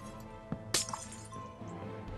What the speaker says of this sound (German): Muss ich aber 2 Glas zerstören, ne?